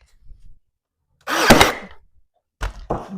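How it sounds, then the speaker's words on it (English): A brad nailer firing a brad nail into thrifted wooden furniture gives one sharp, loud pneumatic snap with a short hiss, then a couple of quieter clicks and knocks nearby in otherwise silent surroundings. "Just go ahead and just shoot a new brad nail in there."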